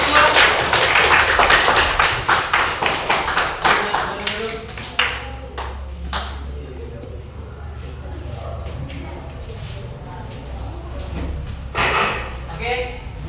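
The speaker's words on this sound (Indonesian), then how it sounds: "tepuk tangan nak untuk kelompok" Students in a classroom clap for a presenting group, with loose, uneven claps that thin out into scattered taps and pauses before a brief swell near the end, heard fairly close.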